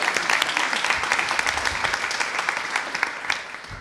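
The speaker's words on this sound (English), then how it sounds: "Let's give Anthony another round of applause" A crowd at a city celebration with students and the mayor gives sustained applause. The clapping fills the whole span at a steady, loud level.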